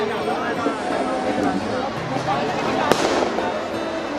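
Firecrackers crackle and burst at a Dussehra celebration in Sarangarh, a dense, continuous rattle with one sharper bang near the end, mixed with crowd noise while a voice speaks over it.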